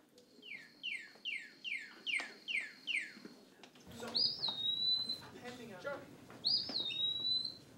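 Bird calls played for a third-grade elementary classroom lesson on sound, pitch and volume run by science museum instructors: a quick run of six descending chirps, then two clear rising-and-falling whistles, close and distinct.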